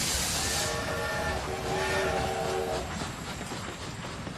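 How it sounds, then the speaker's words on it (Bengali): A train running on rails for an audio drama, a steady rumbling roll with a brief hissing burst at the start and faint tonal whistle-like lines, loud and continuous, then easing slightly as it slows. "দেখতে দেখতে ট্রেনের গতি মন্থর হয়ে এলো।"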